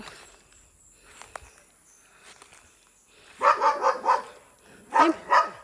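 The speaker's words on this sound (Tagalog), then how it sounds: "Laki ng aso nila. Aw-aw! Aw-aw! Aw-aw!" After quiet rustling and a few faint clicks, a large dog barks in two loud bursts of several rapid barks each, fairly close.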